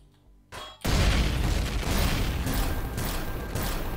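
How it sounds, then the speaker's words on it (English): A big explosion in the video game Empyrion Galactic Survival: after a brief quiet start, a loud booming blast erupts and rolls on as a sustained, crackling roar to the end. "Yeah, big explosion."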